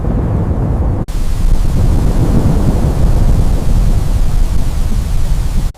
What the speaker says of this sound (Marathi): इंद्रदेव मेघांना आदेश देतात, गोकुळावर असा पाऊस पाडा की तेथे काहीही राहणार नाही.